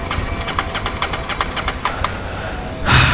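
A 1-litre vehicle engine cranks but fails to start, giving a loud, steady, rapid chugging pulse for about three seconds before a short burst of noise as it stops.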